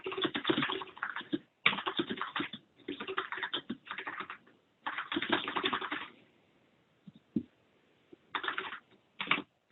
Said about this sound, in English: I'm going to go ahead and type that all out.